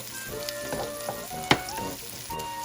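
Potatoes fry in a pan for fried rice, giving a soft continuous sizzle with a sharp clink near the middle and faint stirring.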